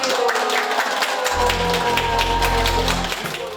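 A group claps out the Korean 'saranghae' rhythm at a climate-campaign lecture event, quick patterned beats that are steady and fairly loud, with a low sustained hum joining partway through.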